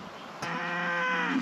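A cow in the remote mountains of Mexico gives a single drawn-out moo after a brief knock, fairly close and clear against quiet surroundings, with a breathy rise near its end.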